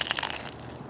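A bite into crispy-skin grilled chicken thigh cooked on a Weber gives a short, close, dry crackling crunch that fades within a second.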